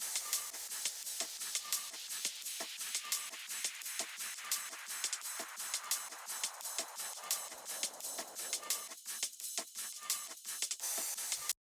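A top drums loop without kick and snare, made of busy, crisp hi-hats and shakers in a fast, steady rhythmic pattern with some pumping, fairly quiet and alone, cutting off at the end.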